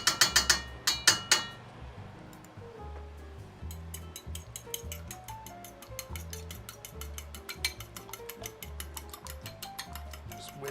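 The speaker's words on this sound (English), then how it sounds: "Just whisking some egg." A fork whisks egg in a bowl, with some loud clinks at the start, then quick, steady metallic ticks against the bowl over a low rhythmic background, close and moderately loud.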